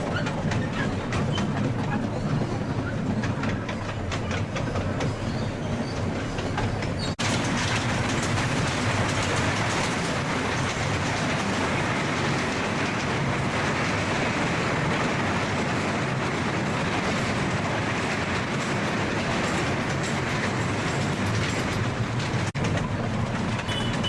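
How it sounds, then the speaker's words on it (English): A toy train runs through a wildlife sanctuary, giving a continuous rumbling ride with steady rattling and clatter, close and even in level for the whole stretch. "we are taking the toy train back towards the entrance"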